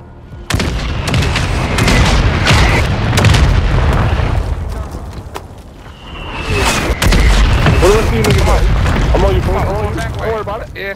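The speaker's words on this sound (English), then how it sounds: "Mortar strike on the way." Mortar strike explosions in a Call of Duty match: heavy booms and rumbling blasts fill most of the stretch, easing briefly midway before another loud wave, with game chatter mixed in.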